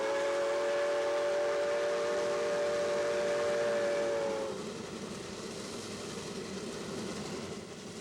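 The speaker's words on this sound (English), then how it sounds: "The sound of a steam locomotive working hard is pretty timeless and interesting" A steam locomotive on the Georgetown Loop Railroad sounds a long, steady whistle, which then gives way to a continuous rumbling, hissing exhaust as the engine works hard, moderately distant and with no voices.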